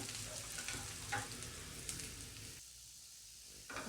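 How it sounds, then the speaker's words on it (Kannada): Chopped onions fry in oil until golden for a pea and potato kurma, a steady close sizzle with a few stirring scrapes, briefly dipping quieter before the sizzle returns. "ಸ್ವಲ್ಪ ಗೋಲ್ಡನ್ ಕಲರ್ ಬರೋ ತನಕ ಈರುಳ್ಳಿನ ಫ್ರೈ ಮಾಡ್ಕೊಳ್ಳಿ"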